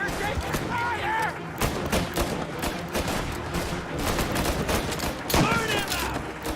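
Sustained gunfire in a shooter video game, rapid bursts and heavy shots rattling continuously, with shouted voices mixed into the chaotic battle.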